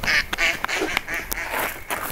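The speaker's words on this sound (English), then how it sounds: "that's when my ducks come back home for landing" Ducks returning home to land quack loudly and close by, a rapid run of repeated nasal calls that overlap one another with no gaps.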